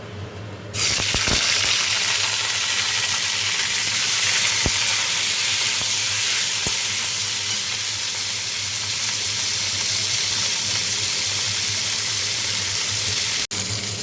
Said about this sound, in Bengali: এবার আমি ফুলকপিটা ভাজবো